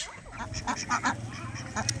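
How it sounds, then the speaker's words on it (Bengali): A large flock of domestic ducks at a rural village pond quacks and honks close by in rapid, overlapping nasal calls over steady low outdoor rumble. "এই যে প্রচুর হাঁস এখানে এই যে এই পুকুরেই থাকে হাঁসগুলো"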